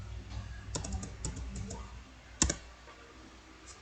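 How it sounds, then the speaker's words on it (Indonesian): Typing on a computer keyboard: faint, irregular clusters of light key clicks with a louder clack midway, quiet room background. "kemudian kita ketikkan localhost di sini"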